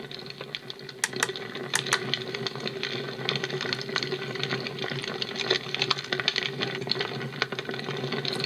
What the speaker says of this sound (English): A crackling fire.